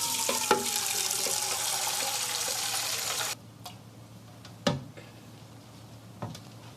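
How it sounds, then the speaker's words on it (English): Water running from a tap into a large drinking glass, a steady broadband rush for about three seconds that stops abruptly, followed by a few faint clinks and taps. "Fill it with water."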